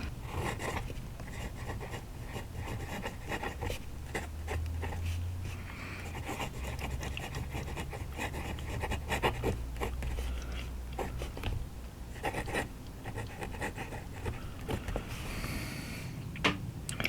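A Centropen 10014 fountain pen nib scratches across paper in quiet, close strokes that continue steadily, with faint rustles and taps between them.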